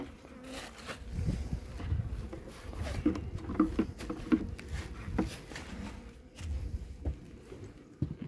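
Angry honeybees swarm around an opened hive, their buzzing loud and close, rising and falling in dense waves alongside scattered knocks and handling noises, with no speech.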